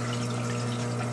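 An automatic water-change pump on a reef aquarium sump moves water with a steady, close, even hum and a faint watery wash throughout.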